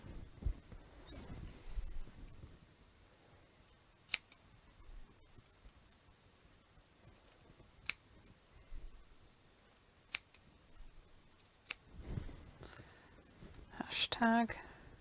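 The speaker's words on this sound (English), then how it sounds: "don't you just love the sound of scissors?" Scissors snipping through paper or fabric for a quilt flag craft, a few sparse, crisp cuts spaced apart over quiet room tone with faint rustling, loudest near the end.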